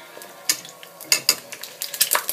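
An egg fries in olive oil in a small pan, with a steady soft sizzle broken by close spatula scrapes and light pan clinks, alone without talk.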